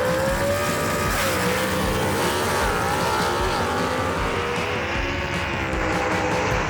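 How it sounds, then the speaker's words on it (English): C-Gas gasser drag racing car launching off the line at Kil-Kare Dragway, a loud continuous engine roar that rises in pitch as it pulls away, with crowd noise blended underneath. "that's the way a C-Gas car is supposed to leave the line"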